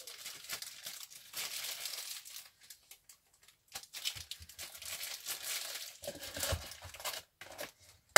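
Craft tape being torn and crumpled into shape for a toadstool model, with bursts of close, crinkly rustling and tearing separated by short quiet pauses.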